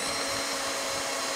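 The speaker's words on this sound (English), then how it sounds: "We're gonna go ahead and begin to drill down into it." A steady high-pitched whine of a power drill boring a 3/16 hole into metal while fixing a tonneau cover, running continuously, close up and loud, without pauses or voices.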